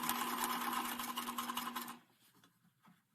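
A sewing machine stitching a bandana face mask runs in a fast, steady whir for about two seconds, then stops, leaving faint handling noises.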